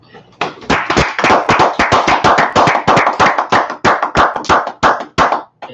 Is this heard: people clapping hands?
yes